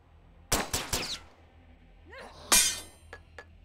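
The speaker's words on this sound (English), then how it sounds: "Oh, my sword broke." A sword shatters in the video game The Last Stand: Aftermath, a sharp bright crash followed by two small metallic clinks, after a quick volley of gunfire-like bursts.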